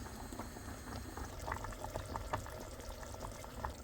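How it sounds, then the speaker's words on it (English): Minced beef and onion cottage pie filling with peas simmering in a pan, a quiet steady bubbling with scattered soft pops and blips, close and alone without talk. "I'm just letting this simmer down to intensify the flavour."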